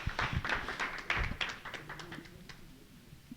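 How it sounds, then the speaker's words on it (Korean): Scattered audience applause at a Korean science and technology talk concert, a brief burst of claps that thins out and fades within a few seconds. "우리 노두용 원장님에게 박수 한번 보내주십시오."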